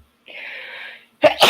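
One close human sneeze bursts out sharply right after a quiet breathy intake, the explosive release loud and brief against near silence.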